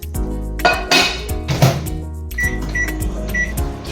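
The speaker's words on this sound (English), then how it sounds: "I want to put this meat pie inside the microwave." A microwave oven runs while a meat pie is put in to warm for breakfast, with a low steady hum, clinks of dishes, a door clunk and several short bright beeps near the end.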